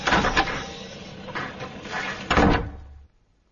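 A tape recording of construction work plays in a radio drama, made up of rough clunks and scraping bangs that swell and fade several times before cutting off abruptly.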